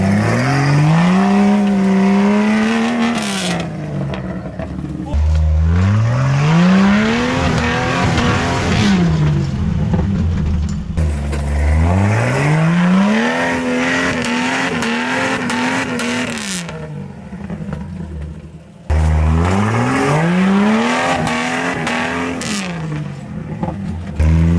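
Jeep Cherokee driving an off-road trail course: engine repeatedly revving up and dropping back in rising and falling sweeps, loud and close, with brief pauses between bursts.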